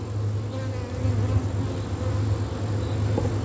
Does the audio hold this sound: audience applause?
no